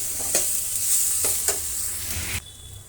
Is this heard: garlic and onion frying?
yes